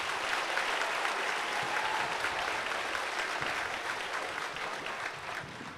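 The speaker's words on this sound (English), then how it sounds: "Can I get a round of applause for the band," At an army basic training graduation ceremony, a crowd gives the army band a long, steady round of applause that stays even and full throughout.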